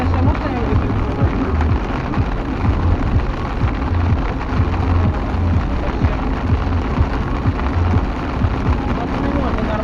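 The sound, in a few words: rain falling during a squall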